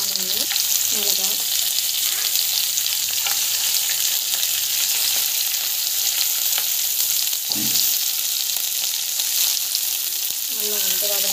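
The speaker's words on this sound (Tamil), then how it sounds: "ஆயில் போட்டு ஆயில் நல்லா காய்க்கும். ஸோ ஆனியன், மிளகா," Onion and chili fry in hot oil for a simple chutney, a loud steady sizzle running the whole time, broken by occasional stirring knocks and scrapes.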